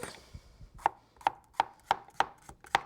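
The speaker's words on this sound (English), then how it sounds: "And now we just want to slice it down." A knife slicing through a vegetable on a cutting board while preparing a Tuscan summer bread salad, six crisp evenly spaced chops, close and clear with no talk.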